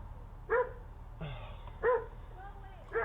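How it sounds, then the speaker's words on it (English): A dog barks in three sharp, separate bursts, close and loud, with a person's voice speaking between them. "He don't hear the dog? He not scared of the dog?"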